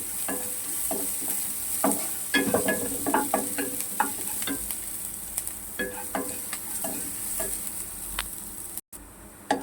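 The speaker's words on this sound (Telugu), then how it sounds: "ఇవి లైట్గా బ్రౌన్ కలర్లో వచ్చేంత వరకు మనము వేపుకోవాలి." Ingredients for a bitter gourd fry frying in a pan until light brown, with a steady sizzle under repeated close clinks and scrapes of stirring, no talking.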